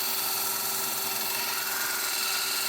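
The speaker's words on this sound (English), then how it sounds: "Here I'm grinding in the bevels." A grinder works the bevels on a forged sgian dubh knife blade, a steady high-pitched abrasive whine that stays loud and continuous throughout, with no voices.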